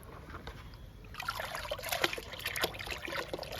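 Cow dung being mixed with water in a bucket into a liquid, with sloshing, trickling and splashing close by that grows busier after the first second, no talk.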